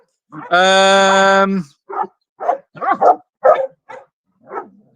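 A dog barks indoors, opening with one long, high howling whine followed by a run of short, sharp barks, loud and near with no talk over it.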